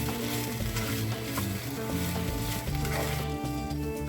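Grated ginger with salt sautéing in a pan, a steady broadband sizzle with soft scraping stirs running throughout at close range, no voices.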